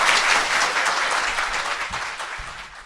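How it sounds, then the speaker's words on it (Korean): Studio audience claps after a guest's talk on public healthcare, a short burst of dense, moderately loud applause that stays fairly even before fading slightly. "박수 부탁드립니다."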